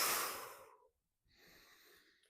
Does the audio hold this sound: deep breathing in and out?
yes